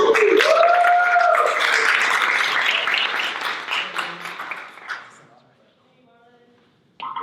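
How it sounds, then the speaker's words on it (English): A crowd applauds steadily after a talk at a tech and startups for social justice event, the clapping loud at first and then thinning out and fading away over several seconds before a voice returns. "Give them a round of applause"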